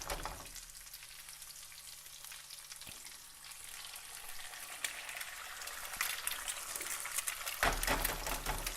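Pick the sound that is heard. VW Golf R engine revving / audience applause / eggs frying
eggs frying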